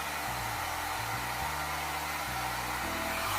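A hair dryer blows steadily while long hair is blow-dried section by section at home, a loud continuous airy roar with a low motor hum whose pitch shifts slightly as the dryer moves.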